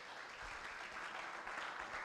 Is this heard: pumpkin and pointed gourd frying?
no